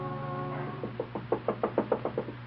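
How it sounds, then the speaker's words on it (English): A nervous knock on a door in a 1937 radio drama, about nine light, quick raps in an even, slightly hesitant run, heard after a brief musical tone and with no talk over them. "Alaric, the family martyr, knocks nervously at Peg's door."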